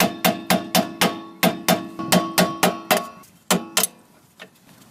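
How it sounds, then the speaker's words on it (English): Sharp metallic hammer blows on a seized rear brake caliper pin of a 2002 Honda CR-V ring out in a quick, regular series of about a dozen strikes, close and loud, with a couple of final hits before it trails off. "we're going to see if we just hit it with a hammer, loosen it up"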